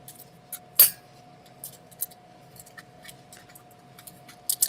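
Scissors snip white paper into leaf shapes, making sharp, isolated clicks and crisp cuts scattered irregularly, with one louder snap early and a quick pair at the end, close and clear over a quiet room.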